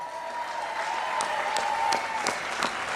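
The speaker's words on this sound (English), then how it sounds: "so let's give them a round of applause." Tea party rally crowd of a couple thousand people applauding the organizers, a broad roar of clapping with a few louder claps and a sustained tone underneath.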